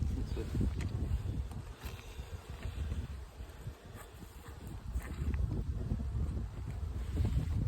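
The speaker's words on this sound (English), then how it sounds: "I think it's a bit windy" Gusty wind buffets the microphone in rumbling waves that rise and fall, loud and close, with no clear talking.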